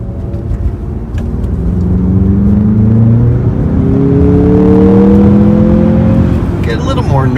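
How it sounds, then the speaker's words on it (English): A 2024 Mazda CX-50 Meridian edition with a turbo engine in sport mode accelerates from inside the cabin, a loud steady engine hum whose rising tone climbs as the car gains speed, with a brief whir near the end. "Get a little more noise, a little more engine noise that's, I think, manufactured."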